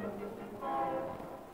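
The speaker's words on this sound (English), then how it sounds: "the train arrives in the heart of the big city." A train rolls into the heart of a big city, its steady rumble and rail noise swelling briefly as a horn-like tone sounds in the middle.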